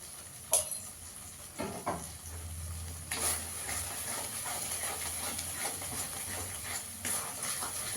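Spices with Kashmiri chili powder sautéing in a pan for cauliflower korma, giving a soft, continuous sizzle with a few sharp clinks of stirring, quiet and close.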